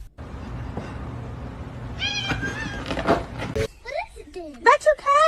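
A cat meows and yowls several times in a home, the cries rising and bending in pitch, with a person talking over it and other household noise.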